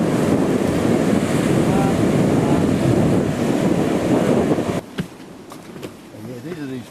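Surf breaks on Lily Beach, Christmas Island, a loud, continuous wash of waves heavily buffeted by wind noise, cutting off abruptly near the end to quieter rustles.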